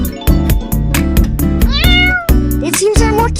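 Cartoon kittens meow loudly and repeatedly over bright background music, with several high, close, drawn-out cries overlapping.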